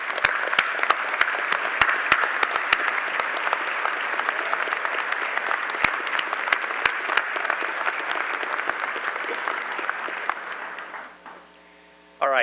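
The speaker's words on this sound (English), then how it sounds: "Let's give her a round of applause." Graduation commencement audience applauding, a loud, sustained crowd of clapping hands with a few sharp nearby claps standing out, holding steady before fading abruptly near the end.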